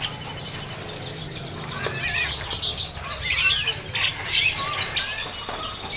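White canaries chirp at a kiosk in the Pramuka bird market: bright, rapid trills and tweets overlapping near and loud, over busy market background noise.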